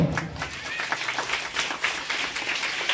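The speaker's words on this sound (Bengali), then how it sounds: "সবাই করতালির মাধ্যমে সংবর্ধনা জ্ঞাপন করব।" An audience at a school twinning program's cultural event applauds: dense, steady clapping that fills the whole stretch at moderate loudness.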